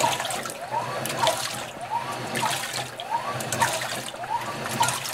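Water pours and trickles into the drum of a GE Infusor high-efficiency top-load washer (model GTWN5050M0WS) as it fills, a steady, fairly quiet splashing stream with faint rhythmic sloshing and no talk.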